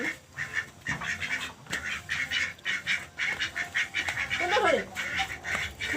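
A duck brought along during Magh Bihu festivities quacks in a few short calls amid steady outdoor bustle and voices, the calls fairly close but partly buried under the surrounding noise.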